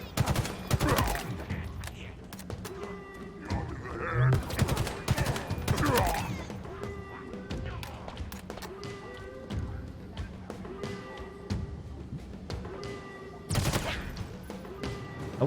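Automatic rifle fire in Halo Infinite rattles in several rapid bursts with sharp repeated shots and thumps, spread across the span with quieter gaps, while someone talks over the gameplay.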